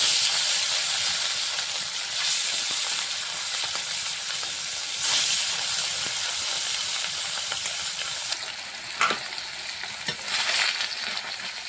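Rohu fish pieces frying in mustard oil in a pan, a loud, dense, continuous sizzle and hiss up close with a few brief crackles and spatters.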